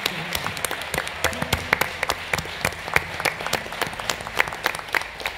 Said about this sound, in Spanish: para mis compañeros del baile, de la música también, otro fuerte aplauso.